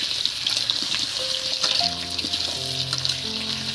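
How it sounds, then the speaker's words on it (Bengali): Potatoes fry in a hot kadai for aloo dum, a loud crackling sizzle with stirring scrapes, while some tonal musical notes rise in the background. "বন্ধুরা আলুটা ভালো করে আমি ভেজে নেব"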